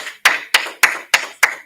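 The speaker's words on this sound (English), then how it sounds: "Clap it up." Five sharp, evenly spaced hand claps from a group, close and crisp, with short gaps of quiet between them.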